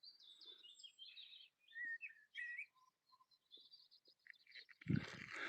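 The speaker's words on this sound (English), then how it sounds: "Sounds like that blackbird in the tree there." A blackbird sings from a tree beside a loch at sunrise, its fluting phrases and chirps coming in short bursts at moderate distance, ending with a louder low thump or rustle nearby.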